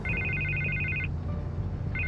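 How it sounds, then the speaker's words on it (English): A telephone rings in the Batman Telltale video game, an electronic trilling ring that sounds for about a second, pauses, then starts again over a low background hum. "I can't get the phone to stop ringing."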